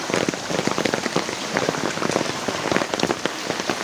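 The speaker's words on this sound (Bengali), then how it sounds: "আজকে তো মনে হয় না বৃষ্টি থামবে মানে এই বৃষ্টি শুরু হচ্ছে গতকাল রাত থেকে" Heavy rain that has fallen since the previous night pours onto a flooded area, a dense, loud, continuous patter of drops splashing on water and surfaces, with no voices.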